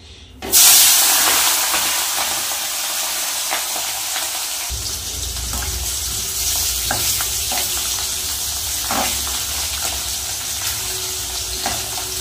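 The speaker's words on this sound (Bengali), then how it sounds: "ভালো করে মাছগুলো একটু ভেজে নেব" Tengra fish frying in hot oil give a loud, continuous sizzle and spitting hiss that surges as the fish go into the pan, then settles into a steady crackle.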